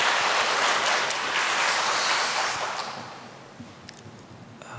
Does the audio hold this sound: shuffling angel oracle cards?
no